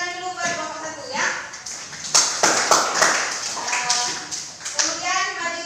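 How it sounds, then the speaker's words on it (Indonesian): A classroom of students claps for a group after its presentation in a teaching practice lesson, uneven bursts of hand claps under overlapping children's and adult voices. "Tepuk tangan dulu buat kelompok 1 ya."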